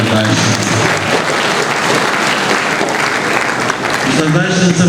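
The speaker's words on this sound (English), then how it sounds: "Another round of applause for the Vice Chancellor." Sustained audience applause fills a hall after a university inaugural lecture, dense steady clapping from a large crowd throughout, with a voice and some tonal sound emerging near the end.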